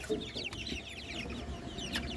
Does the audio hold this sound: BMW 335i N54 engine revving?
no